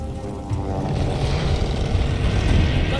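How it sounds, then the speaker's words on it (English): In Call of Duty: Vanguard, a propeller airplane drones overhead as a loud, broad engine roar that swells and stays heavy and rumbling throughout, with no talking over it. "That's a plane!"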